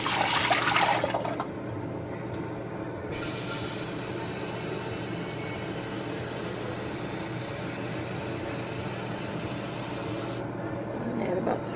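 About three quarts of water pour into a soup pot for bean soup, making a steady rushing, splashing stream that runs for most of the clip and is loudest at the start.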